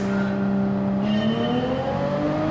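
Toyota GR Supra race car in Gazoo Racing livery revving in a racing video game, a steady, loud engine drone whose pitch climbs gradually, heard alone without talk.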